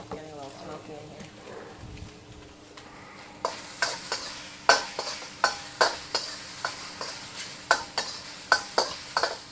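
Beef stir-fries in a hot pan, sizzling steadily while a utensil scrapes and tosses it in quick, regular clacks, with people talking over the cooking.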